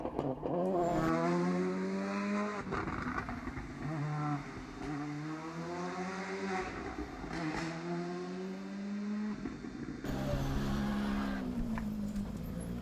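A VW Polo R5 rally car at the Rali Vinho Madeira revs hard through repeated gear changes, its engine note climbing and dropping in sweeping waves, loud and close, with an abrupt cut near the end.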